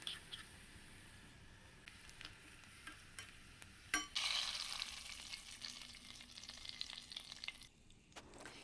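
Fried spinach, garlic and chillies are stirred into chicken in a pan, a sudden scrape followed by a soft, steady sizzle with light clinks of the spoon.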